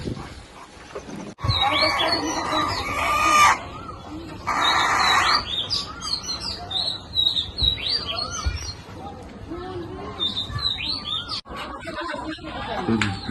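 Ducks and chickens kept as pets call in a busy burst of short chirps, quacks and clucks close by, with people talking over and between the calls and some handling noise.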